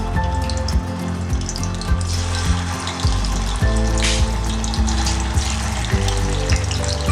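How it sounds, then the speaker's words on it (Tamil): Bitter gourd frying in hot oil in a frying pan, a loud, continuous bubbling sizzle with low thumping pulses and clatter throughout, close up and with no voices. "எண்ணெய் சூடானதுக்கப்புறமா இந்த பாகற்காயை போட்டு நம்ம பொரிச்சு எடுக்க போகிறோம்."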